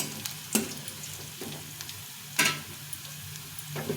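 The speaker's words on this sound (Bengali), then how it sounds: "পেঁয়াজগুলো একটু লাল লাল ভাজা হয়ে গেছে" Sliced onions browning in oil in a pan, a soft steady sizzle with a few sharp stirring clicks and scrapes, fairly quiet and without talk.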